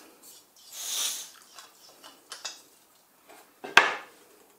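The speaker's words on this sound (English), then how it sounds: "And I'll take the stove apart." An MSR Pocket Rocket 2 camping stove, 2017 model, being taken apart, with soft rustling, small metallic clicks and a sharp closing snap near the end, close up and alone.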